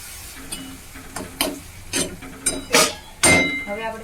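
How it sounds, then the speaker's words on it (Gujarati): A spoon stirs chopped tomatoes into simmering sambar in a pot, giving scattered scraping clinks and soft sizzling swishes, a few louder strokes toward the end. "હવે આપણે આમાં સુધારેલા ટમેટા એડ કરી દઈશું અને મસ્ત"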